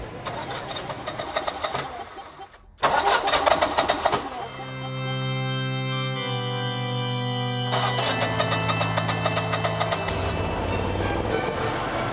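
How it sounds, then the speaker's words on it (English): A food truck's generator engine is cranked but fails to start, with a loud close rumbling, clattering motor sound that cuts out briefly and then resumes as a steady drone. "Generator won't start, and I just put in more gas."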